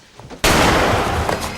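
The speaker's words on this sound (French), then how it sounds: "t'as entendu les coups de feu" A gunshot or burst of gunfire in a French film trailer, a sudden loud crack after a quiet moment, followed by a sustained noisy roar that lingers to the end.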